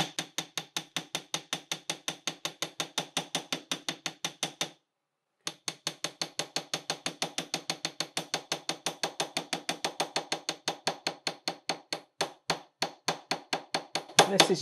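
A flat-edged hammer strikes silver sheet resting on a steel block, giving a long run of rapid, evenly spaced metallic taps with one short pause; toward the end the blows grow louder and more irregular.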